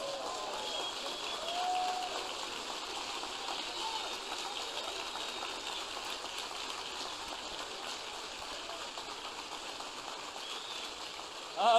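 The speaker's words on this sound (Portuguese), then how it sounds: "dê uma salva de palmas ao Senhor nessa noite" A church congregation applauds during an evening service, producing a dense, sustained wash of clapping that keeps an even level from start to finish and swells slightly at the end.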